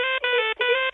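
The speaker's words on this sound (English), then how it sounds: "Matt, my producer, has knocked me up a new ringtone. So I'll just turn on my phone and have a listen." A new mobile phone ringtone plays close and loud, a bright buzzy electronic tone repeating in short rhythmic bursts with brief gaps, heard alone.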